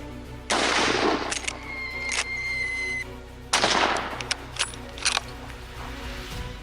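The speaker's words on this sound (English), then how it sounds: "The noise from rifle fire can scare away wild boars and other wildlife" Rifle shots ring out during a feral hog hunt in California: a handful of sharp, separate cracks spread over several seconds, each trailing off with some echo, with quiet between them.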